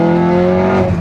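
A heavily modified Volkswagen Golf R on air suspension accelerates hard along a back road, its engine droning loud and steady with a rising harmonic tone heard from close by.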